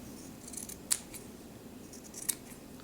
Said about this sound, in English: Anywhere where you have a corner, you're going to cut across it